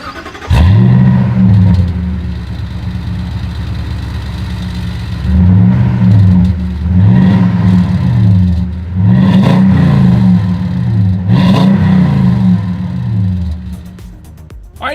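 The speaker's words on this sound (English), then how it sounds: "here is that exhaust clip" A truck's exhaust rumbles at idle, then revs up and down in several throaty bursts, each swelling and falling back, loud and close.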